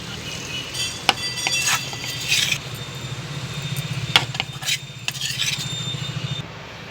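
Sweet potato slices cooked in khoa are lifted from the pan onto a serving plate once the gas is turned off. A utensil scrapes and clinks, with a couple of sharp taps, over a light, steady background hiss.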